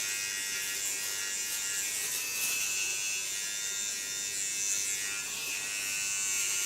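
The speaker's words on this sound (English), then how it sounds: "I use my latest clipper again. To set out the contour line." Electric hair clipper buzzing steadily and close up while setting a sharp contour line along the hairline in an ultra-short haircut, a continuous high-pitched motor whine with no talking.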